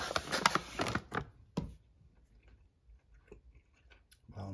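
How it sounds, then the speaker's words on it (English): Someone chews Darrell Lea soft Australian strawberry licorice from Costco. Close, quiet, moist chewing comes in a burst of soft bites at first and then fades to faint, scattered squelches. "While I'm chewing this, I'm gonna look over the bag here."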